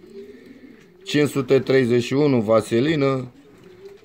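Racing pigeons coo in their loft, a short burst of deep, rolling coos rising loudly and close in the middle, with a person speaking around them.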